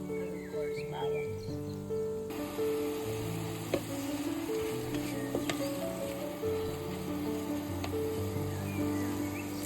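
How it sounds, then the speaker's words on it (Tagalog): Tomato, ginger and garlic sizzle and fry in a pan for pinakbet, a steady close crackle with occasional stirring clinks and no talking. "Igisa pa natin sa tomato and luya and of course bawang."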